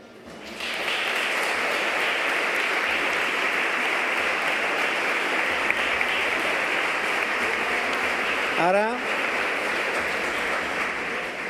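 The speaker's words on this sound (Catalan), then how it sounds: "La ciutadania de Reus t'ho agraeix i, per tant, també una vegada més t'aplaudeix." Audience applause fills a hall after the proclamation speech for the Festa Major de Sant Pere in Reus, a steady, dense clapping that holds loud and even for about eleven seconds without talk.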